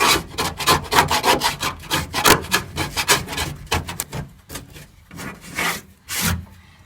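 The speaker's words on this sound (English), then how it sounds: "that basically just keeps going across and it just scrapes it all off" Scraper blade rasping across the bare metal body of a 1956 VW Oval, a run of quick repeated strokes, fairly close, that thin out into a few separate scrapes toward the end.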